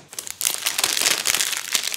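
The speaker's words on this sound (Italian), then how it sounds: "Facciamo che li scarto prima tutti dalla pellicola" Plastic protective film being peeled and crinkled off a graphite iPhone 12 Pro during an unboxing, a loud, close, continuous crackling rustle that starts with a few light crinkles.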